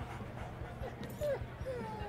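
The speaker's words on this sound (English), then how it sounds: "That dog is fierce." Dog named Delia in the game Life is Strange: Before the Storm gives a few short whimpering yips and whines, faint and brief over game background noise and people talking.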